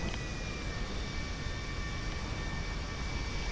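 A steady, loud airplane engine roar during a video game takeoff holds constant throughout, a continuous jet whine over heavy rumble with no voices.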